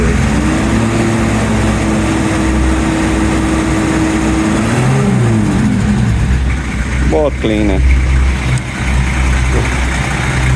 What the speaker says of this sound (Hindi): अभी गाड़ी स्टार्ट रहेगी, इसको कुछ देर स्टार्ट रहने देंगे, आधा घंटा।